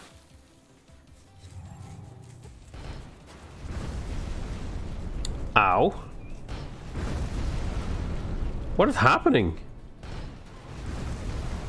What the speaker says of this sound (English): My cannons are shooting my own units.